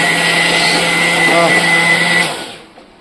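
Mixer grinder whirring steadily as it grinds idli batter, a loud continuous motor drone that cuts off near the end, followed by brief quiet.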